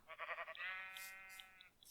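Sheep in a Minecraft wool farm give a single wavering bleat, fairly faint and close, with a few soft clicking game sounds around it.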